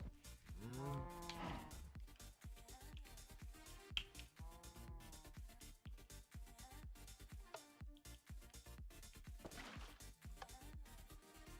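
A cow mooing in the Minecraft modpack Project Ozone 3, several drawn-out moos over a busy backdrop of rapid clicking and tapping sounds.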